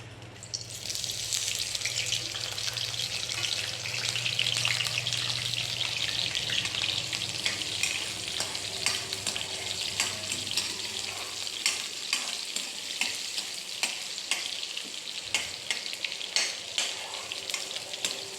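Two chopped onions frying in hot mustard oil in a wok, a steady loud sizzle with occasional stirring scrapes and clinks.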